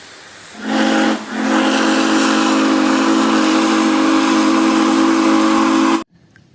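A toy train's whistle sounds as one loud, steady steam-style hoot with hiss, held for about five seconds after a brief opening blast, then cut off abruptly; no voices are heard.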